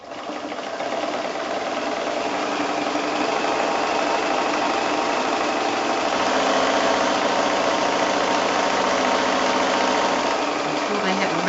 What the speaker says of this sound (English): I'm just going to use my sewing machine as a drawing tool